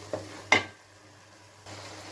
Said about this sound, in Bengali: টমেটো আর ক্যাপসিকাম দিয়ে 5 মিনিট ভুনা করে নিব